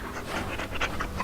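A dog in the Dragon Age: Origins video game pants quickly and steadily in a short, close burst, with no talking.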